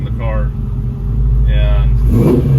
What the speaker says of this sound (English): revving this up sitting here, that motor's really smooth because it's not shaking the car